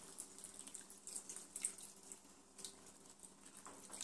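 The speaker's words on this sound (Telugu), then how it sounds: "మునిగే అంత పోయాలి వాటరు" Water runs from a vessel into a cooking pan of cut radish pieces for a dried-fish curry, a faint, uneven trickle and splash lasting a few seconds without talk.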